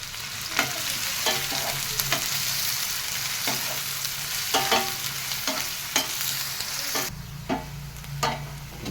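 Onions frying in a pan for a mushroom gravy curry, stirred with a utensil: steady close sizzle broken by repeated scraping strokes, with no one speaking.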